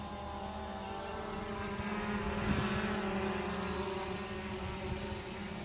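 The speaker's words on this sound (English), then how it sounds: "Basically all it is just flying the drone around." RC drone flying figure eights, a constant whirring propeller buzz with steady tonal hum that swells slightly as it passes nearer midway, then holds steady.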